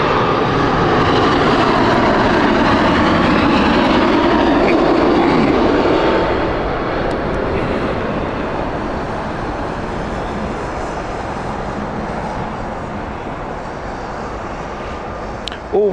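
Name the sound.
aircraft flying over Heathrow Airport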